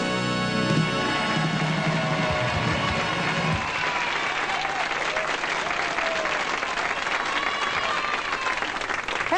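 A studio audience at a Young Talent Time television show claps and cheers for a young performer's first appearance, sustained dense applause that swells and carries on for nearly ten seconds, with a voice briefly audible at the start.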